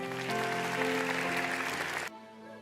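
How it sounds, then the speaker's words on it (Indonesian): A church congregation applauds as a dense, continuous wash of clapping with music sustained underneath, then the clapping cuts off abruptly and the music carries on alone. "Kasih tepuk tangan untuk mereka semua."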